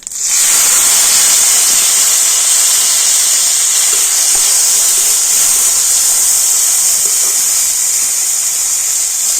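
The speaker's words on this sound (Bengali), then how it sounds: "মশলাগুলো একটু হালকা ভেজে নিয়ে আর দিয়ে দেবো টমেটো আর কাঁচা লঙ্কা" Tomatoes and green chillies hit hot oil with fried whole cumin and whole garam masala, setting off a loud, steady hiss of sizzling that starts abruptly and holds for the whole stretch.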